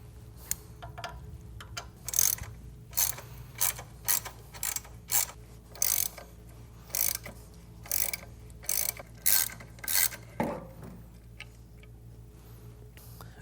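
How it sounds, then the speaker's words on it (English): An Allen wrench ratchets out Harley-Davidson Milwaukee 8 Touring floorboard bracket bolts, giving repeated short bursts of clicking pawl ticks separated by brief pauses, close and clear without talk. "We're gonna use our 5/16 Allen again, and I'm gonna take both of these brackets off."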